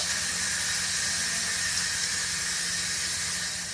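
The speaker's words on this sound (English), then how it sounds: "turn the toggle onto venting and let the steam come through" Steam vents from a Russell Hobbs electric pressure cooker in a loud, continuous, close hiss that holds steady and only slightly eases near the end.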